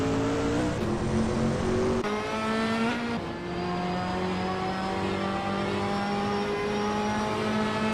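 Race car engines drone and whine in a racing video game, several high-pitched motors layered together, shifting pitch as cars overtake and accelerate, loud and continuous with no talking.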